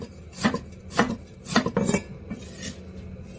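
Knife slicing ginger on a board, a handful of crisp chopping strikes spaced at irregular intervals, close and moderately loud with a faint clatter of metal and dishes.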